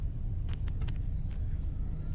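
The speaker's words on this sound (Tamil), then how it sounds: "இங்கே பாருங்களேன் எவ்வளோ பெரிய டிராஃபிக்ல நம்ம மாத்திட்டோம்." Road traffic in Taramani rumbles low and steady, with a constant vehicle drone and faint brief noises from passing vehicles on top.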